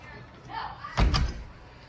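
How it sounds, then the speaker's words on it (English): A house door swings and shuts with a single firm thump, preceded by a brief creak of movement and a soft background murmur. "Let me close this door."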